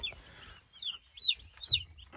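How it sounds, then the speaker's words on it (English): Cornish Cross chickens on a farm in Clarence Center, New York, give about three short, soft clucking calls, spaced apart over quiet background. "I didn't realize Mrs. American Country was going to buy so many chickens"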